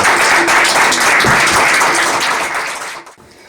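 A church congregation at a Sunday evangelical meeting applauds in a dense, loud burst of clapping that carries on steadily, then fades out sharply near the end.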